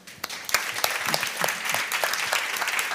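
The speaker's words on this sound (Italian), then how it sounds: "Un applauso." Audience applause at a music industry panel in Milan, a moderate room of scattered hand claps rising quickly and continuing in a steady, crisp patter.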